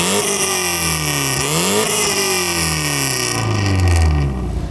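A 1990s Mercedes performance car engine revs up and down nearby, its raspy note rising and falling in pitch before dropping back toward idle, loud and alone without talk.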